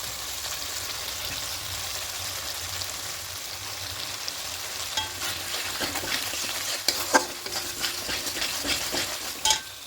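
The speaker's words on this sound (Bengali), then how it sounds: "টক দইটা দিয়ে একটু ভালো করে কষিয়ে নেব" Vegetarian potato curry with green peas and sour yogurt frying in a pan, a steady soft sizzle with occasional scraping stirs and sharper clicks toward the end, no talking.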